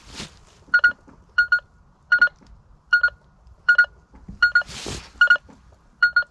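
A Tarsacci MDT 8000 metal detector sounds its signal tone over nails, sharp electronic beeps in quick double pulses repeating at a steady rhythm, with brief rustling between them.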